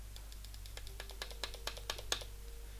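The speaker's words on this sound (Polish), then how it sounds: "Klikam prawym przyciskiem, nawet pewnie słyszycie" Sharp, faint right mouse button clicks tap out in a loose series of about a dozen over a quiet background hum, close to the microphone, while playing Heroes 6.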